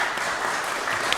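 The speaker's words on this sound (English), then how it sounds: "they certainly deserve a giant round of applause" Steady applause from an audience fills a lake association's annual meeting, a dense continuous clatter of many hands clapping close by for just over a second.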